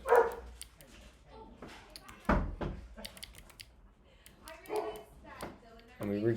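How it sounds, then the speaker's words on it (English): A dog barks outside an office door in a few sharp, separate barks and yips, muffled at a middle distance, between stretches of someone talking nearby. "So sorry for the barking."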